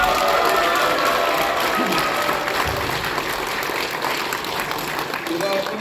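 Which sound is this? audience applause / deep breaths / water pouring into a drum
audience applause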